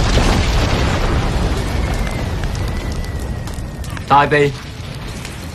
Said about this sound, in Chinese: 啲炸弹就揸到嚟噶啦！